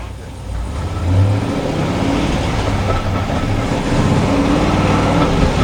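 A car engine with an MSD AirForce intake manifold revs under load in fourth gear, a loud, steady low drone that swells early on and holds at a sustained pitch, with a low rumble throughout.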